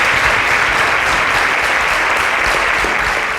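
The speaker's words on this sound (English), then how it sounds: "A round of applause for happy." A studio audience applauds steadily on a talk show, a dense, continuous wash of clapping that stays loud and even throughout with no one speaking over it.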